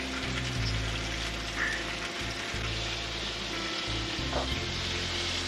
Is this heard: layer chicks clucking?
no